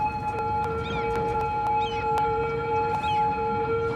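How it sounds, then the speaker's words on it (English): Emergency vehicle sirens wail in the Cities: Skylines city-building game, steady warbling tones repeating over a low ambient background, fairly quiet overall. "those sirens are really loud"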